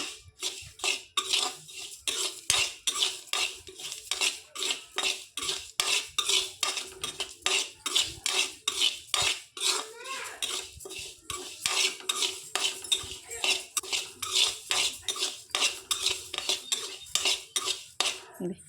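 Cardamom pods and cloves roasting in a pan as a metal spoon stirs them, giving steady, rhythmic scraping clinks against the pan throughout, close and clear with no talking.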